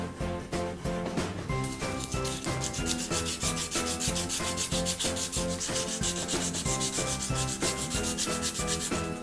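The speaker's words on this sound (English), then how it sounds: "doing a little bit of clean-up work around the hinges, as well as some final finishing sanding" Rapid rhythmic sanding strokes on wooden sunglasses frames around the hinges, a brisk scratchy back-and-forth close up, with music playing steadily underneath.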